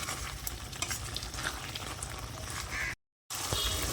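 Vegetable curry with tomatoes being stirred and mixed in a hot pan, a continuous sizzle with scraping spoon strokes, briefly cutting to silence near the end before the sizzling resumes.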